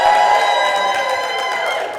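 Audience at the 2022 Bay Area Research SLAM cheering and clapping for Berkeley Lab, a loud crowd roar with whoops that stays steady and slowly fades over two seconds.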